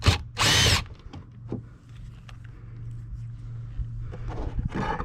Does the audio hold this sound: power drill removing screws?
yes